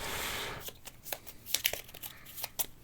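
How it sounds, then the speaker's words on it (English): Playing cards for the ISS Vanguard board game are riffled and shuffled in several quick crisp bursts of flicking and snapping, close and fairly quiet, with no talking. "I need to shuffle these."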